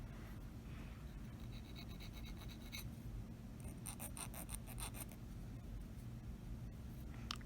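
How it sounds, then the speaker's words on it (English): A standard hand file rasps across the cut end of a wire hoop earring in short, light strokes, close and fairly quiet, forming uneven bursts of scraping. "I take a standard type file and I'm going to round that nicely"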